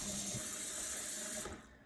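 Tap water runs steadily into a sink being filled to wash raw wool curls, a continuous close hiss and splash that cuts off near the end as the faucet is shut.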